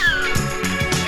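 A cat gives a quick series of close, clear meows lasting about a second, heard alone.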